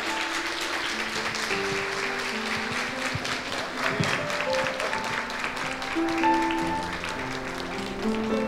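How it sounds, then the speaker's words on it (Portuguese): An audience applauds in welcome for a child, steady clapping sustained throughout with music and a murmur of voices mixed in beneath. "sendo acolhido por todos com uma salva de palmas"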